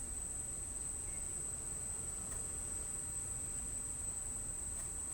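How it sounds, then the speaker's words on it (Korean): An outdoor air conditioner unit on a rooftop gives off a steady, faint hum with a constant high whine above it, unbroken for the whole stretch and with no voices. "매미 소리가 아니라 이 실외기 소리거든요"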